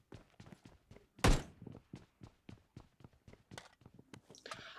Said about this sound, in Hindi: अब मेरे को यहाँ से बाहर से फुटस्टेप की आवाज है